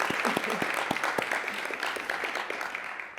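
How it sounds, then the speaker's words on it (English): An audience at a literary talk on comedy, religion and literature claps in steady applause, with a few sharper individual claps standing out near the front, fairly soft overall. "please give them a round of applause"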